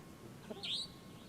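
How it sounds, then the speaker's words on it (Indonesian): A night bird calls once at a moderate distance, a short rising chirped note standing out over a quiet low background hum. "Itu suara burung hantu,"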